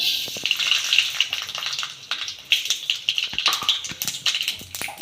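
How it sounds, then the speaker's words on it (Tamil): Mustard seeds crackle and pop sharply in hot oil, a dense run of small bursts over a hissing sizzle, close by and with no talk. "கடுகு நல்லா பொரிஞ்சிச்சு"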